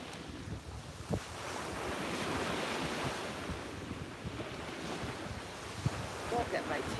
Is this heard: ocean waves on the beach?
yes